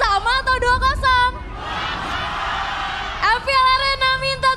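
Supporters of BTR and RRQ cheer at the MPL Arena during a Mobile Legends esports match. Rhythmic chanting and whooping voices give way to a broad roar of the crowd, then rise again, with an announcer speaking over it.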